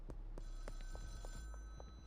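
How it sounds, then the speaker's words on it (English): A phone rings in the Schedule I video game, a regular series of electronic rings repeating about every quarter second, clear and close with a faint steady hum beneath. "So the phone should ring again."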